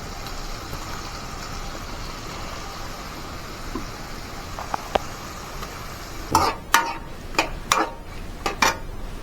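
Chicken frying in a pan with ginger paste for a spicy chicken curry: a steady, soft sizzle throughout, joined near the end by several sharp clicks of a utensil against the pan.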